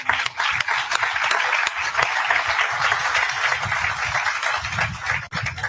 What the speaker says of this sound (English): I would ask that we give them a round of applause as well